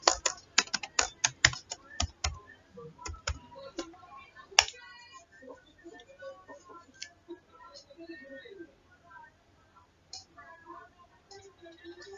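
A password is typed on a computer keyboard: a quick run of close, crisp key clicks at first, then sparser taps under quiet talk.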